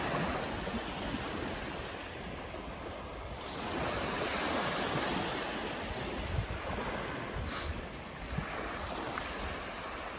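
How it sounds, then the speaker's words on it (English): Waves of an incoming tide wash onto the shore at Talacre beach in a continuous broad roar that swells and eases, with breezy wind noise across the microphone and no talk. "tide is coming in"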